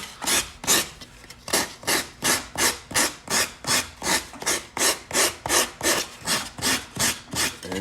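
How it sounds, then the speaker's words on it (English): A rasp shapes a block of yellow foam in steady back-and-forth strokes, about two per second, each a loud, close, coarse scraping rush with no voices. "Start coming in with your rasp."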